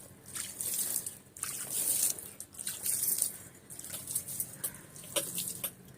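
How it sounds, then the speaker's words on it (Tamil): Water is poured a little at a time onto newly planted garden plants, a soft, uneven trickling and dripping with brief splashes that comes and goes in short bursts, close by and fairly quiet. "இப்போ கொஞ்சம் கொஞ்சம் தண்ணி ஊற்றிக்கலாம்."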